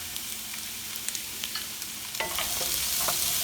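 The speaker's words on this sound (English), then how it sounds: "Now I'm adding my potatoes, which we had, the 3 potatoes." Potatoes frying in a pan with ginger, garlic and turmeric, with a quiet crackle and a few stirring clinks, then a louder, steadier sizzle and scraping once they are tossed in. No one speaks.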